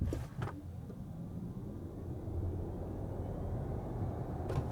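An Audi Q4 e-tron all-wheel-drive electric SUV accelerates from 0 to 80 km/h, heard from inside as a low, steady road and motor hum that swells slightly, with brief thumps at the start and end.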